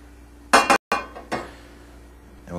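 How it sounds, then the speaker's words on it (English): A frying pan used to sear venison steak is tipped to drain off the fat, giving a few close metallic clinks and scrapes of the pan against a surface, separated by short pauses. "We're going to drain most of the fat off of the pan."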